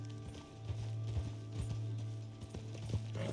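Horse hooves clip-clopping in Red Dead Redemption 2 Online, a steady series of muffled footfalls over a low droning game soundtrack, moderately loud and with no talk.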